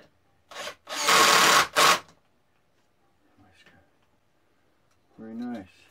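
A powered driver tightens screws during assembly of a Respawn chair in two short, close whirring bursts, followed by quiet, a faint rustle and a brief bit of talk.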